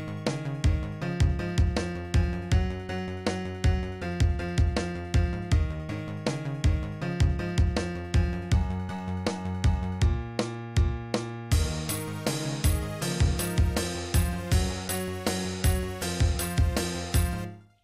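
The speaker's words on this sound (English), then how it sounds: "that's the climax of the song, the full climax, so all the instruments come in" A full song climax made in Stomper Studio Mobile, with all instruments playing together: a steady pounding beat under dense layered synth and percussion parts, loud and continuous, ending with a brief fade.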